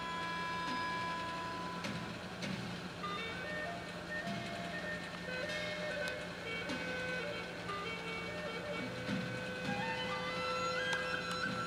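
A post-WWII Japanese Dressmaker sewing machine runs a steady 2x2 zigzag stitch through about 5 ounces of elk hide, a continuous mechanical whir with layered tonal hum that holds at an even level throughout.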